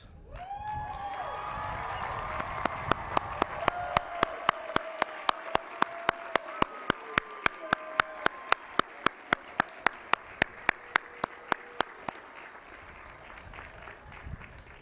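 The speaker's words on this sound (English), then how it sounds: "One more round of applause." Commencement crowd at Roger Williams University applauding the class of 2024, a broad roar of clapping with a nearby person clapping in a steady, sharp rhythm over it, while a voice or tone rises early and fades.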